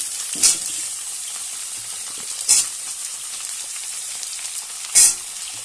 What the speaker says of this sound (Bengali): কলা, পটল, সবজিগুলো এবার ভেজে নেব